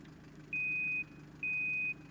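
Reversing beeps from a London Citybus C200 bus in the OMSI 2 driving simulator: two long, steady high electronic tones, evenly spaced, over a low engine idle.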